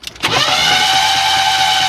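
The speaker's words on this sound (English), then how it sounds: "I wanted to crank the engine, see if I hear any noise" A 1994 Chevrolet Astro van engine with lost oil pressure cranks over, giving a loud, steady whirring drone close by with a high whine after an initial click.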